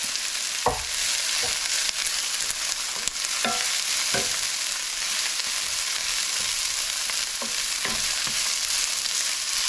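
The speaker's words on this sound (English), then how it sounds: "So the onions can start cooking along with the cabbage." Onions and cabbage frying in olive oil in a pan, a loud continuous close sizzle with occasional utensil scrapes and stirring knocks, no voices.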